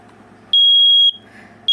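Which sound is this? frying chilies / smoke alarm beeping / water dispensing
smoke alarm beeping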